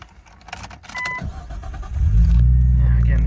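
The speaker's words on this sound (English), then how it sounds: "I'll do another start to watch the RPMs" A 2000 Nissan R34 Skyline cranks with a brief starter whir after some clicks and handling noise, then fires and settles into a loud, steady idle close by.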